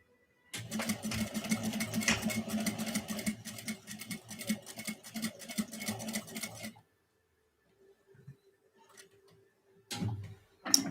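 A sewing machine stitches in a rapid ticking run for about six seconds, close and clear, then falls quiet apart from a few faint handling clicks and a short final burst.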